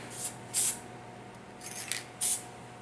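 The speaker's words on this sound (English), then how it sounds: "Okay, so I'm just going to spray the back." Short hissing bursts of spray from a spray can onto the back of a Christmas ball, roughly four quick squirts spaced apart, close and fairly crisp over a faint background hum.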